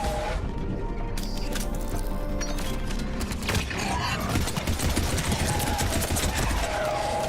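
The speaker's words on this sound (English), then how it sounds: "Just shooting at a cannibal." Sustained gunfire from the video game Mass Effect 3 keeps up a dense, rattling barrage throughout. Crashing combat noise sits underneath, and brief voices come through the din.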